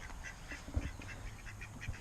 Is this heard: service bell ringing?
no